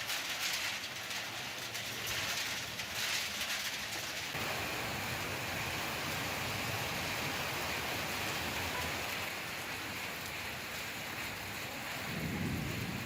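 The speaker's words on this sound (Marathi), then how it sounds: "चंद्रपूरमध्ये वादळी वाऱ्यासह जोरदार पाऊस होतोय" Heavy unseasonal rain pours down in a dense, continuous hiss, with gusty storm wind rushing through it, in Chandrapur, India.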